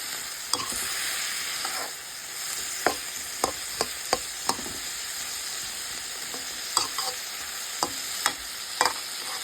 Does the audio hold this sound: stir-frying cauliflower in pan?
yes